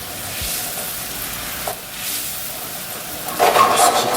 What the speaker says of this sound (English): Keep giving it a little stir. I'll keep reducing it down.